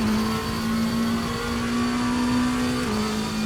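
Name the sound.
Lamborghini Temerario GT3 4-liter V8 engine revving, RaceRoom video game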